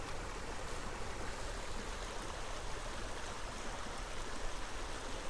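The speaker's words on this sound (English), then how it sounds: "I love those little tiny waterfalls." Small woodland stream spilling over tiny waterfalls, a steady broadband rush and splash of water, close and continuous without pause.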